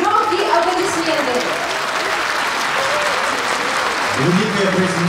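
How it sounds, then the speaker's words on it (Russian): Concert hall audience applauding steadily and loudly at a Loktev Ensemble anniversary performance, a dense continuous wash of clapping throughout, with a voice speaking over it. "еще раз ваши громкие аплодисменты."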